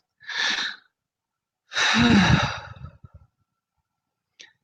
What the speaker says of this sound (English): And take another deep breath.